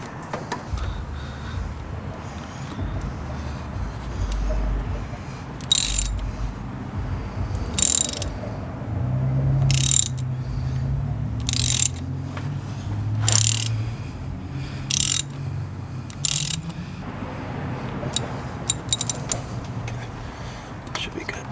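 A hose clamp is tightened on a fuel pressure regulator hose in the engine bay of a 1JZ-swapped IS300, with rapid ratchet clicks in regular bursts over low rumbling handling noise, close up, while someone talks quietly.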